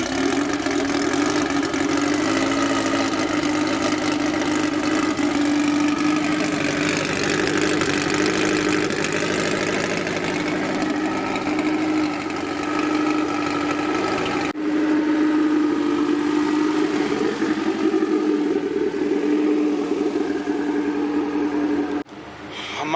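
A Honda Civic with a K24/20 engine swap idles steadily up close, giving a constant droning hum with mild fluctuations for over twenty seconds before it changes abruptly at the very end.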